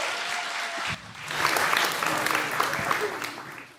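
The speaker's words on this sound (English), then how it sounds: "Big round of applause for these guys." Audience applause for a group of volunteers at an MIT demonstration, a brief spatter at first that swells into a full, sustained clapping from the crowd that keeps going to the end.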